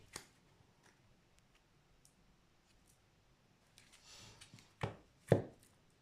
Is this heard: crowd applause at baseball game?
no